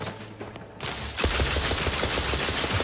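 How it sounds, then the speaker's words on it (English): Rapid automatic gunfire in The Outer Worlds 2 opens abruptly after a short quieter stretch, then continues as a dense, steady volley of loud shots until the end. "You're just shooting straight into the box in front of you, dude."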